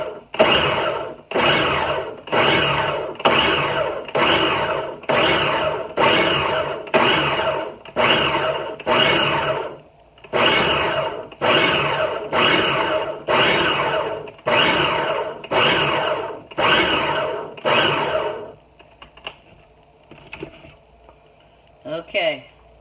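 A food processor or blender pulses cherries for vinegar in loud, regular bursts about a second apart, a long run, a brief pause, then another run, ending with a few softer clatters.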